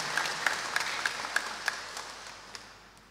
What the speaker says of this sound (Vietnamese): Chúng ta có một tràng pháo tay thật lớn